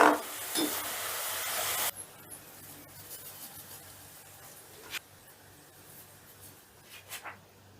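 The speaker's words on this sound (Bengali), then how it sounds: "এবারে আমি নেক্সট ব্যাচটা ভেজে নিচ্ছি।" A batch of shredded potatoes frying in hot oil, with a loud, dense sizzling hiss for the first two seconds, then dropping to a much quieter background with occasional small crackles and taps.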